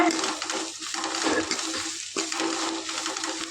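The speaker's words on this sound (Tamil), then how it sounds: "அதை அப்படியே சேர்த்துக்கலாங்க இதோட இதையும் நல்லா ஒரு வதக்கு வதக்கிக்கலாங்க" Five or six crushed garlic cloves sauté in a pan for a ridge gourd sabzi, making a dense, continuous hiss of frying that stays loud and even, with a brief dip near the end.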